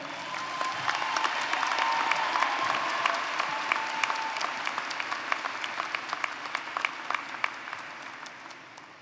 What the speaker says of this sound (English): Let's give a round of applause for the What's Next program.